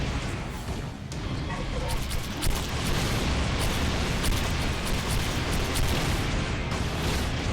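Bombs burst in the video game Rogue Continuum, a run of heavy booms and crackling blasts piling on each other in a loud, continuous barrage.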